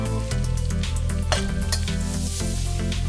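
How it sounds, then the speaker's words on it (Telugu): Chicken fries slowly in a pan over a low flame, Andhra restaurant-style chicken fry, giving a steady close sizzle with light metallic scrapes and clinks of the utensil against the pan throughout. "మంచిగా పచ్చివాసన పోయి గోల్డెన్ బ్రౌన్ కలర్ వచ్చే వరకు నిదానంగా తక్కువ ఫ్లేమ్తో వేపుకోవాలి"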